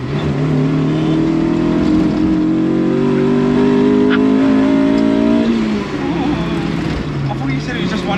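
An 850 kg Triumph Toledo powered by a Honda S2000 engine accelerates hard from inside the cabin, its rising engine drone climbing steadily before a gear change, with voices talking over the noise.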